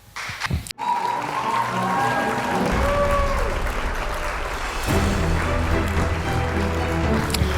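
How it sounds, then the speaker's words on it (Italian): An audience applauds steadily after a documentary screening at a talk, a dense sustained wash of clapping that begins after a brief pause and continues to the end. "grazie dell'applauso"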